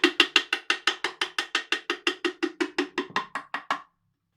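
Afro-Peruvian cajita, a small wooden box, struck in a fast even run of about twenty sharp, bright knocks whose pitch shifts near the end before stopping.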